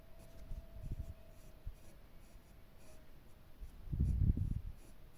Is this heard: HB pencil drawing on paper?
yes